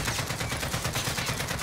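Rapid automatic AK-47 fire in Modern Warfare Warzone, a dense unbroken burst of shots at steady loudness throughout, with no talk over it.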